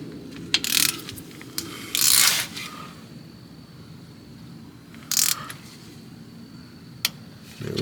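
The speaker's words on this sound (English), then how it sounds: "It's a 1/4 inch Allen socket. So I'm just gonna snug it." Ratchet with a 1/4 inch Allen socket snugging a differential cover bolt, giving a few short bursts of close, crisp clicking separated by quiet pauses.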